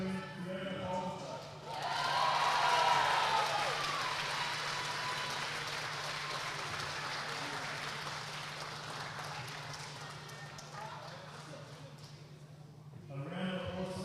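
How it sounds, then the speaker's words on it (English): Crowd clapping for a youth podium at a national sport climbing championship, a steady wash of applause filling most of the stretch with an announcer's voice over the PA at the start and end. "A round of applause, please, for our Youth A female event podium"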